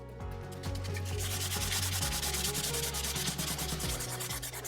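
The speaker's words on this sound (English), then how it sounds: "sand the plastic so that it would take a different colour" Rhythmic rasping strokes of 600-grit wet/dry sandpaper wet sanding plastic, fast and repetitive, close and fairly loud with no talking.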